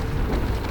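Steady rain with low thunder rumbling beneath it, a short continuous stretch of storm noise with no voices.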